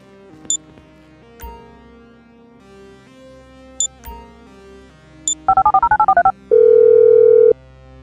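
In Grand Theft Auto V, a phone gives a few soft key clicks, then a quick run of dialing beeps and a long steady tone as a call goes through.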